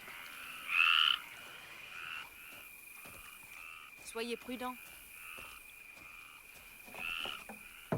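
Frogs croak in a loud pulsing chorus at night, with rhythmic calls repeating above a constant insect trill, while someone speaks briefly.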